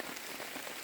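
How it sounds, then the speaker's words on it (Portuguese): Steady rain falling at a campsite in the Amazon, a dense hiss of drops pattering on surfaces, close and constant, with no talking. "Tá chovendo, porém sol e chuva"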